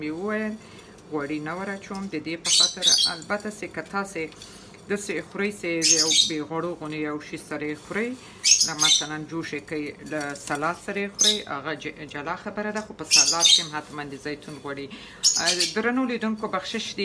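Pet birds squawk in sharp, shrill bursts every few seconds in a home kitchen where spaghetti is being cooked, the calls cutting through a person talking steadily throughout.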